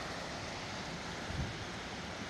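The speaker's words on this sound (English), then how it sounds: "And I hear the waterfall." Waterfall on Stekoa Creek in Rabun County, Georgia, heard as a faint, steady broadband rush of falling water from a distance, continuous throughout with no voices.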